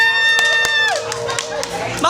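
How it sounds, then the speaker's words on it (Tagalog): A few claps for a food vendor at a beach cafe, sharp and close, heard amid people talking loudly with music playing behind. "Bigyan ng 3 palakpak."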